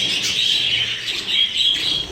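A chorus of small caged birds in a breeding room chirps and twitters continuously, a busy overlapping chatter of high tweets close by.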